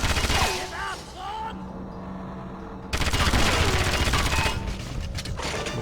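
Enemy gunfire in the video game 007: Agent Under Fire rattles in rapid bursts around game music and effects, moderately loud, broken by a brief lull before the shooting resumes.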